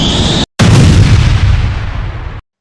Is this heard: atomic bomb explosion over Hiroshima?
yes